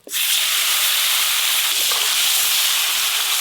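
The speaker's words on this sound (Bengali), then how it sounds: "শঙ্কর মাছের তেল ভাজা হচ্ছে" Fat from shankar fish fries in a pan with a loud, steady sizzle that bursts in abruptly and holds as a dense, even hiss for the whole stretch, close up and with no voices over it.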